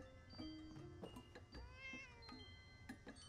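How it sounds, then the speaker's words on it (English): A cat meows repeatedly in Fallout 76, several short rising and falling mews over faint game background sounds, fairly quiet and alone. "That's a cat!"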